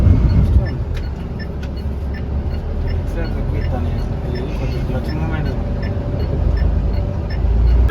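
A loaded truck pulls off in first gear with a low, steady engine rumble and drivetrain hum, heard from inside the cab, while someone talks over it throughout.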